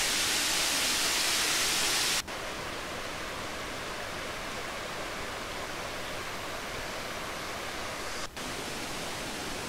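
Constant broadband rush of a waterfall visited by tourists in the Uruguay–Paraguay–Argentina region, loud and steady, with a brief dip in level partway through and no voices.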